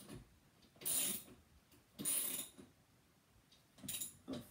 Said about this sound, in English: Torque it down like this. I recommend just using a 10 millimeter socket from the get-go.